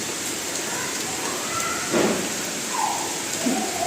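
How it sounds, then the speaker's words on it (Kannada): Morning rain falling steadily as a continuous soft hiss throughout, with a few faint louder splashes or rumbles rising briefly; no speech is heard. "ಈಗ ಶುರುವಾಗೈತೆ ನೋಡ್ರಿ ಮಳೆ"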